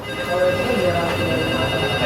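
A mobile phone rings with a steady electronic tone during a chat about car modifications and bodykits, its ringing running under people talking nearby throughout.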